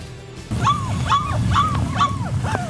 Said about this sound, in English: you can hear them, a litter of adorable puppies found stuck in a hole behind a house in Detroit